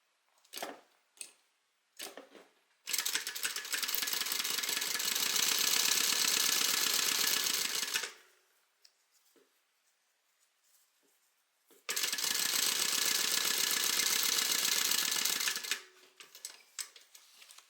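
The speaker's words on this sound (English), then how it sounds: "We're going to go ahead and stitch." A sewing machine stitching a zipper onto a pocket runs in two steady bursts of rapid, even whirring, each lasting several seconds, with short clicks and handling noises before and between them.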